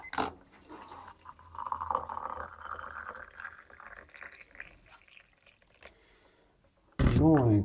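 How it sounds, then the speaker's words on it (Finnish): Water poured into a teapot, about two decilitres, runs as a steady gurgling stream for several seconds over a low background hum, fades out, and then a sudden loud burst of noise cuts in at the end. "kun tuossa sitten kaadan vettä tuonne teepannuun"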